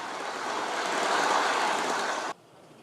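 A steam locomotive gives off a loud, steady rushing hiss of steam that holds for about two seconds, then cuts off abruptly, leaving quieter background noise.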